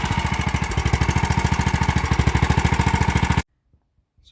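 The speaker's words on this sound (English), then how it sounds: "It's alive! A little bit noisy. I think the exhaust is leaking around the flange at the head." A John Deere Sabre lawn mower engine, abandoned and revived, runs loudly with a rapid, raspy pulsing chug from an exhaust leaking at the head flange, then cuts off abruptly, leaving near silence.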